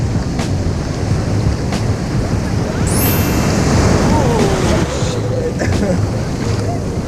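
Big ocean waves roll onto a beach at Baler in a steady, loud wash of surf mixed with strong wind buffeting the microphone, with faint voices calling out now and then.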